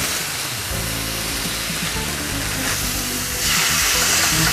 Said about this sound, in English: You want a nice hot pan, you wanna hear that sizzle, so that it gets the grill marks.